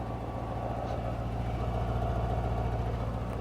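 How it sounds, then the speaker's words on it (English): A 2024 Mercedes-AMG S63 V8 idles in quiet exhaust mode, giving a steady, deep, even rumble with a low hum throughout and no talk. "Check out the exhaust pipes. This is also in the quiet mode."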